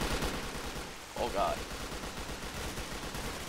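Distant gunfire in the video game S.T.A.L.K.E.R. Call of Chernobyl rattles in muffled bursts under steady rain noise, while a man briefly exclaims.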